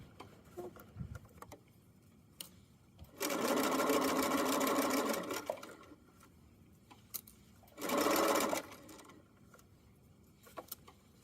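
Sewing machine stitching the back panel of a fanny pack, two loud close bursts of rapid whirring, the first about two seconds and the second shorter, with quiet handling clicks and fabric shuffling between.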